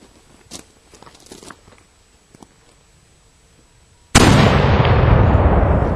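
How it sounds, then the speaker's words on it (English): A bronze cannon made in 1796 fires 7 ounces of cannon-grade black powder behind a 6-pound hollow lead projectile. A few faint clicks and quiet handling give way to one sudden, very loud, close blast that rumbles on as it slowly fades. "this is round number 5, 7 ounces cannon grade black powder, 6 pound hollow lead projectile."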